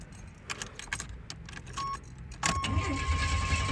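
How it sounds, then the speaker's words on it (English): Keys jingle near a 1987 Buick Regal Turbo Limited, then the engine cranks and catches, and a steady idle rumble with a faint warning tone settles in. The idle is fairly close and moderately loud. "Do a start up here."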